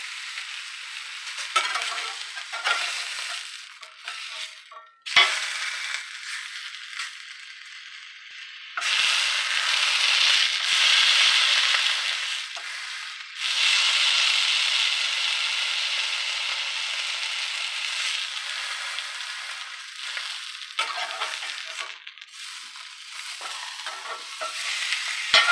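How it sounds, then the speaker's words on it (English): A sous vide T-bone steak sears in a hot pan, a loud hissing sizzle that swells and drops as the meat is placed and turned, with short breaks between bursts. "Sear it up, Alvin. Only need about a minute per side. Get a good sear on there."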